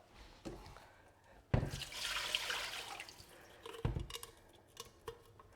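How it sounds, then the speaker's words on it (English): Water carrying small eggshell pieces is poured down a kitchen sink, a sustained splashing gush lasting a couple of seconds between brief knocks and clatters, close and fairly loud. "So I'm just going to pour it down the sink."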